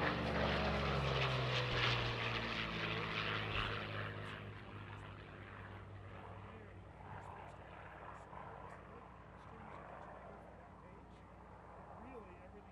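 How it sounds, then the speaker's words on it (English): A Curtiss P-40 Warhawk propeller fighter makes a low straight pass at the Sun 'n Fun 2022 airshow, its engine roaring loud at first and then fading into the distance as an announcer talks over it. "brings in the American Dream, the Curtis P-40 Warhawk, for this parabolic straight pass"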